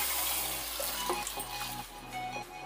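Tamarind water poured into a pan of sautéed anchovy fish curry (nethili meen kulambu), a soft, steady splashing trickle up close, quiet and without any talking.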